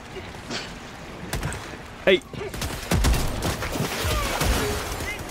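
Gunfire in the Helldivers 2 video game, bursts of shots and rapid fusillades mixed with game noise, heard under players talking and laughing.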